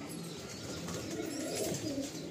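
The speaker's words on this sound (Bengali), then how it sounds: "এই হচ্ছে আমার কালদমা পায়রা।" A kaldama pigeon coos softly in low, murmuring phrases, close by against a faint background hum with no speech.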